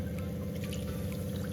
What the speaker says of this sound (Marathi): फक्त अर्धा ग्लास मी पाणी घातलेलं आहे.